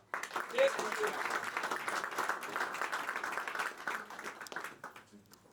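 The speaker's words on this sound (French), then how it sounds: "je vous demande de l'applaudir, Jean-Philippe Morer, vice-président du CEA." An audience applauds at a tourism medal ceremony, a steady dense patter of many hands clapping at moderate distance, fading out at the end, with voices murmuring beneath.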